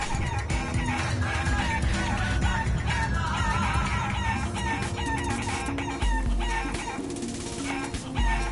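Chickens clucking and crowing in a Mexican-themed platformer video game, a dense, loud run of repeated clucks and crows layered over game music.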